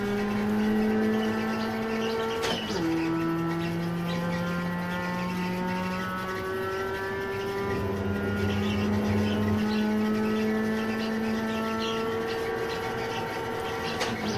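Mustang and Miata race cars on a track in a grand touring race, their engines droning and rising through the gears with long steady pitch sweeps as several cars run close together, loud and continuous throughout.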